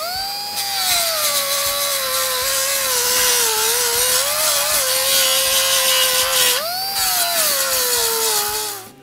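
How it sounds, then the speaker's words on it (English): Continuous high-pitched whine of an angle grinder with a 36 grit grinding disc biting into metal, pitch wavering steadily, with a brief dip and rise near the end, loud and close. "Now we're going to go back to using our 36 grit grinding disc."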